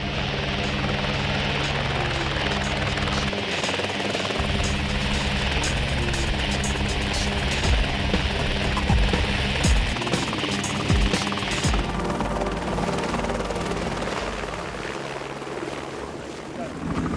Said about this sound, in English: we're getting into the helicopter to go survey the fire here in Oliver